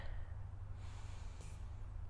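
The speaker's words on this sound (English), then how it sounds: "5 more breaths. Breathing in" Deep inhalation during a relaxation and mobility exercise on a foam roller, a steady breathy rush of air drawn in over a couple of seconds, close and fairly quiet with a low hum beneath.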